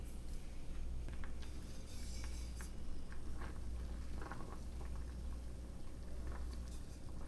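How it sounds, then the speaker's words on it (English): A pot of Korean kimchi simmering on the stove gives a soft, steady bubbling patter with small irregular pops and crackles, quiet and close, without talk. "So here it is simmering away very nicely."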